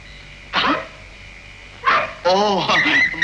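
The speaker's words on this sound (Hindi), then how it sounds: "कुत्ते कब से भौंक रहे हैं? कुत्ते भौंक रहे हैं?" Dogs barking at night, a few separate bursts of barks at middle distance with short gaps between them and a steady low background hum.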